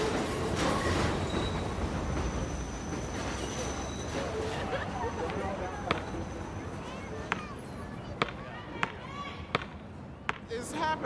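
A subway train rumbles past in a city neighbourhood as a low continuous roar with occasional sharp clanks, while people talk over it.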